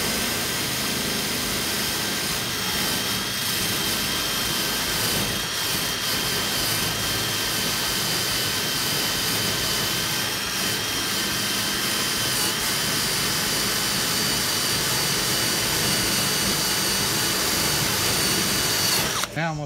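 A power tool fitted with its largest wheel strips rust from a metal dog crate, a loud, continuous high whine and grinding roar that holds steady for about twenty seconds before cutting off abruptly.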